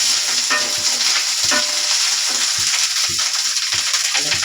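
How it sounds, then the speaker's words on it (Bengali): Fried onions with ginger paste crackle in a pan at close range, with a constant loud sizzle and regular scraping strokes of a spatula stirring the mixture. "আমার পেঁয়াজটা ভাজা হয়ে গেছে। এখন একটু আদা বাটা"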